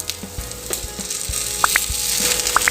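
Karapaniyaram batter fries in a paniyaram pan, producing a soft, steady sizzle with occasional light taps and clinks close by, and no talking.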